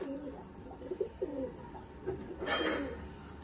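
Pigeons coo softly in a home loft, a few low throaty burbling calls rising and falling, with rustling and a brief brighter flutter of movement near the end.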